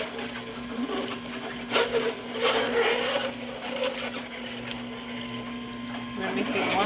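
A juice extractor presses cauliflower fed through its feed tube, giving a steady motor hum with intermittent grinding and crushing bursts, while a person talks over it.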